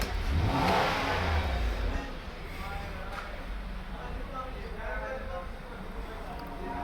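A 2009 Toyota Land Cruiser engine runs up close, with a loud surge in the first two seconds that settles into a steady idle drone.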